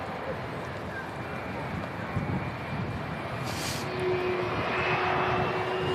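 An Icelandair Boeing 757 airliner at Manchester Airport makes a steady, broad jet engine roar that swells slightly toward the end, heard from a distance outdoors.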